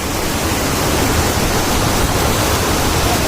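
Loud, constant rush of water flowing at Kalungupatti, a dense hiss that fills the whole clip without pause, close to the listener.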